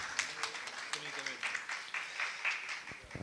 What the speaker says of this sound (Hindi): ये सर एक बार तालियों के साथ अभिनंदन,